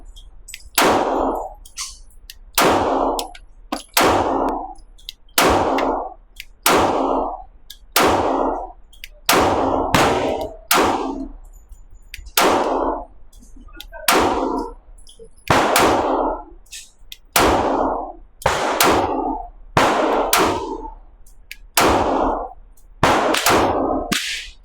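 Sharp, loud pistol shots from a Palmetto State Armory Rock 5.7x28 ring out at a steady pace, about twenty reports each with a brief ringing decay, close up and with no talking.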